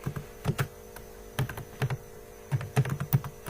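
Clicky keystrokes on a computer keyboard while writing Java code, coming in short bursts with pauses between them, close up over a faint steady mains hum.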